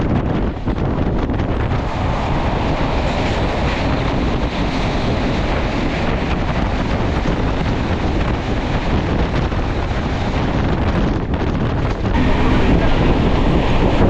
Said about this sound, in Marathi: गेल्यानंतर आता गाडीने स्पीड पकडला आहे. साधारण 107 108च्या स्पीडने गाडी चालली आहे.